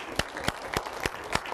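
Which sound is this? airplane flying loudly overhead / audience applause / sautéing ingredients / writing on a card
audience applause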